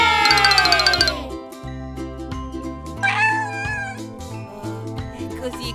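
Several high, drawn-out kitten meows, the first trailing off in pitch and a wavering one later on, rising over a bouncy children's cartoon melody and chimes that play throughout.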